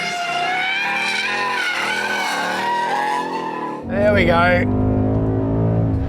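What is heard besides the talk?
Ford Mustang GT V8 engine revving on racetrack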